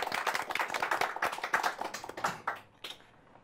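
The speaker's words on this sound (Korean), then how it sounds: "우리 감사 박수 부탁드릴게요." Audience clapping in thanks at a book forum talk event, a burst of dense hand claps filling the room before thinning out and fading to a few scattered claps at the end.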